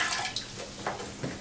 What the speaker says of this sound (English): It's best to empty all water into the toilet.